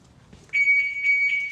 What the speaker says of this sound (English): Oh, set the alarm off already.